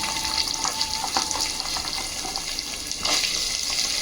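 Onions, green chillies, carrot and ivy gourd frying in a pan for sambar upma, a steady close sizzle with small bursts of crackle and stirring.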